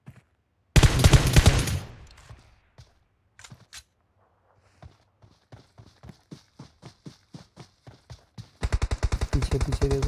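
Gunfire in the battle royale game PUBG: a loud burst of automatic fire, then scattered single shots spaced out, then another rapid volley at the end, with no talk.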